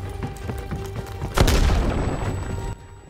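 A grenade blast in Call of Duty: Black Ops Cold War, a single loud, close boom that bursts out over busy game sounds and then rumbles and decays for about a second.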